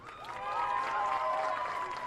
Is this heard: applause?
yes